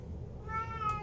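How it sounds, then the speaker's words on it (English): A pet cat indoors gives one short, clear meow that rises near the end, heard close and alone against quiet room noise. "Can you hear my cat meowing?"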